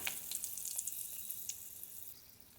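Bitter gourd frying in oil with nigella seeds and chili, a faint, steady hiss with light crackling and small pops, heard alone and fairly distant.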